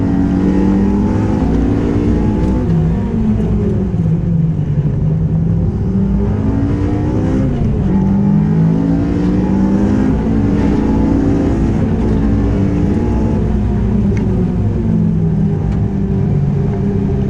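Tuned Toyota MR-S race car with a fully built K24R VTEC engine and carbon clutch, engine revving hard and climbing through rapid gear shifts, a loud, continuous onboard drone with repeated rising pitch sweeps.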